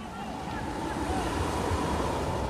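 Ocean waves surging onto a narrow sand strip at the Arctic village of Kivalina, a loud, steady rushing surf wash mixed with wind buffeting the microphone.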